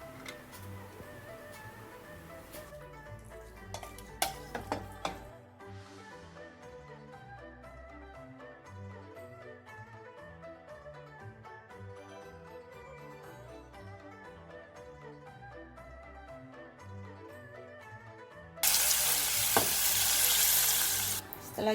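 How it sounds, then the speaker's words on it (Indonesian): Pork belly and garlic are stir-fried in a pan, a soft close sizzle with a few scattered clinks of the utensil, before a sudden loud burst of hiss near the end. "Kemudian masukkan daging babinya dan tumis sampai rata ya"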